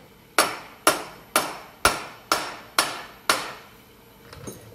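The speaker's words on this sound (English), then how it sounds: "we're going to tap the spindle down about 1 inch" A hammer taps a Bridgeport milling machine spindle downward in seven sharp, evenly spaced metallic strikes, each ringing briefly before decaying, with a fainter eighth knock at the end and no talking.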